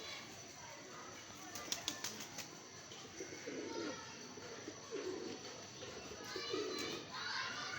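Hefty, prized pigeons, including a Zeera Dabas bird, coo close by with a few brief wing flaps, while children's voices and general chatter carry faintly in the background.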